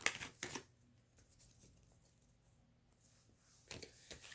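Tarot cards being shuffled and riffled by hand, a quick soft papery flutter at the start and another near the end with near silence between, faint and close.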